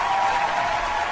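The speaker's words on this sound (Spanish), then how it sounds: "¡Un aplauso!" A studio audience gives a steady, fairly loud burst of applause, with even, continuous clapping and no voices heard above it.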